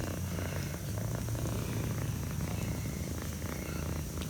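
A cat purrs steadily and close up, a low continuous rumbling drone with a soft pulsing rhythm, alone without talk.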